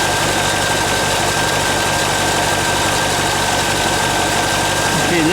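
A 1998 Corvette C5 engine idling just after a harmonic balancer replacement, a steady loud rumble with a constant low hum and a faint tonal whine running throughout, with no break.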